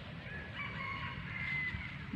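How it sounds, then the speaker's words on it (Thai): A rooster crows during an evening walk through the countryside, sounding as a drawn-out, somewhat distant call over a steady outdoor hiss. "ไก่ก็ยังขันเลย"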